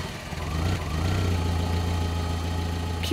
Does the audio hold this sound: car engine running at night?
yes